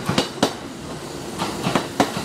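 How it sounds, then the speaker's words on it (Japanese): A Kintetsu train rolls through Saidaiji station, its wheels knocking over rail joints in a few sharp clicks at irregular intervals against a low rumble, fairly close. "京都行きの電車がやってきました"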